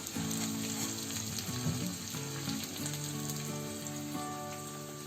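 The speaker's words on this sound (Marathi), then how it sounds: "आता त्याच्यामध्ये ही आपली सुकी मिरची आणि त्याच्यामध्ये ही कढीपत्त्याची पानं." Dried red chillies and curry leaves crackle and sizzle in very hot oil for a raw papaya curry tempering, a steady loud frying hiss with sharp spitting pops throughout, no voices.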